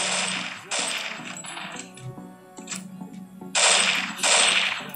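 Gunfire from the mobile battle royale game CrossFire comes in a few loud, sharp bursts of shots with metallic clinks and game effects between them.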